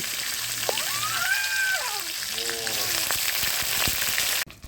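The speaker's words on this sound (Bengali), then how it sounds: "ফোড়নে দেব শুকনো লঙ্কা, তেজপাতা, গোটা জিরে, কটা চেরা কাঁচা লঙ্কা আর একটু আদা বাটা দিয়ে দেবো।" Dried red chillies, bay leaf, whole cumin, slit green chillies and ginger paste crackle in hot oil for a Bengali fish curry, making a continuous close frying hiss with a few brief tonal squeaks over it.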